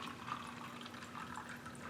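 Water poured off a cup of ice, leaving the ice inside: a soft, steady trickling splash lasting a couple of seconds, close and fairly quiet, with no talking.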